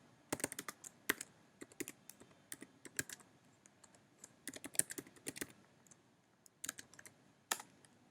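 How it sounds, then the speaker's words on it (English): Command being typed on a computer keyboard in a terminal, with crisp close key clicks in irregular bursts and short pauses between them, otherwise quiet. "Now type this command"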